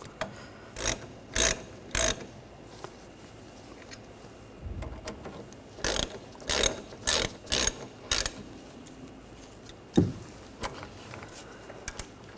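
Ratchet clicking in short bursts as caliper slide pins are tightened on the rear brakes of a 2013-2019 Ford Escape, several quick ratcheting runs separated by pauses, close and clear with no talking.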